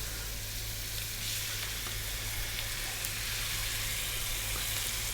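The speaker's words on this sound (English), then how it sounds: "So we're gonna take the chicken and we're gonna drop it in." Chicken pieces dropped into hot oil for spicy chilli chicken, frying at just above medium heat with a steady, close, dense sizzle that holds evenly throughout and has no talk over it.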